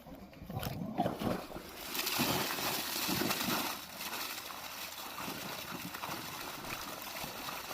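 Water gushing from the outlet of a 3-phase borewell submersible pump, a steady rushing, splashing flow heard close by, a little louder and choppier at first, then settling into an even stream.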